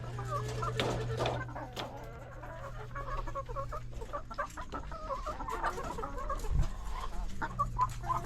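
Chickens cluck and squawk in a coop, with several hens calling close by, their irregular clucks layered over a low steady hum and occasional louder squawks.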